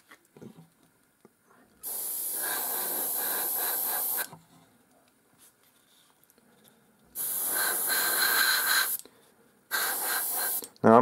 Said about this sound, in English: Now I'm using airbrush mainly for speed and plus some awkward angles to get at